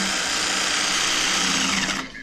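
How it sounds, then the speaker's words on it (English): A quarter bit driver spins out a screw in scrap metal, a steady high whirring motor buzz that runs continuously and cuts off abruptly at the end. "And you go back to your quarter bit driver."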